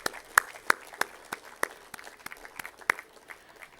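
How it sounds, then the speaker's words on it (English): Scattered, thin hand claps from a small audience at a hospitality excellence awards event in a venue. Uneven single claps pop out here and there rather than building into full, sustained applause. "Can we have a round of applause for all of you?"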